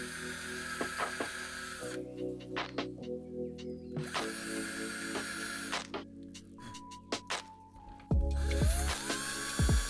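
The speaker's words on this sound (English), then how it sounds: "So I'm gonna drill a fairly deep hole into them." Power drill boring a fairly deep hole into a carved wooden frog fishing lure, a steady whine that stops and restarts, with clicks and handling noise between runs.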